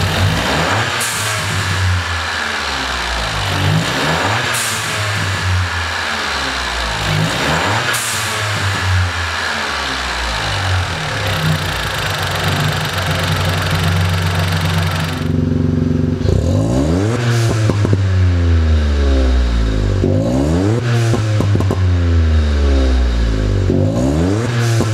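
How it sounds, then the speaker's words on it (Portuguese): Remapped VW Up TSI turbo engine with a modified exhaust, revving repeatedly in loud rising and falling sweeps, with crackling pops and bangs on the overrun between revs, close by. "Acompanha aí como que ficou a turbina dele e o escapamento que a gente fez aí, os pop and bags"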